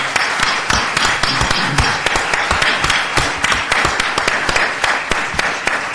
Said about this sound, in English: Would you please give these candidates a round of applause?